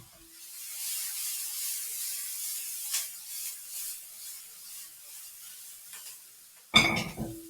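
Garlic and herbs sizzle in a pan alongside bacon-turkey, a steady close hiss with faint spattering that ends in a sharp clatter of a utensil against the pan.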